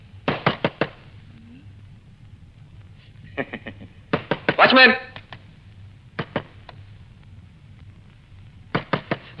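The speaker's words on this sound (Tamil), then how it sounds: "கதவு தட்டுற சத்தம் கேட்டுக்கிட்டே இருக்குது" Someone knocks on a door in a Tamil romantic film scene, with repeated bursts of three or four sharp raps at intervals and a voice calling out briefly between them.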